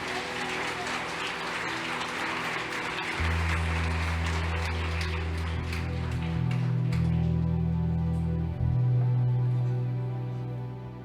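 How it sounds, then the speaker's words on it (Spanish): A church congregation claps loudly during a sermon, the dense applause soon joined by sustained low keyboard or organ chords that carry on beneath the thinning clapping. "Da un fuerte aplauso a Jesús."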